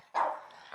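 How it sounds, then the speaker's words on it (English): A single sharp bark from a house dog, close and loud, followed by a brief softer trailing sound. "Oh my God, I'm getting barked at."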